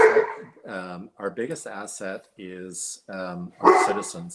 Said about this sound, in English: And I apologize for my dog barking.